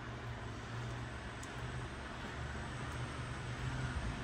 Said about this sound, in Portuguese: hoje o barulho tá grande na minha rua, vocês estão vendo, né? Buzina, é caminhão.